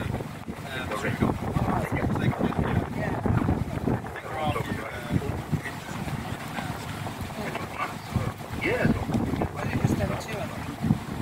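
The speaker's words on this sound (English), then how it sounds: "Still bloody windy." Strong wind at RAF Scampton buffets the microphone in a constant rumbling roar, with voices partly buried underneath it.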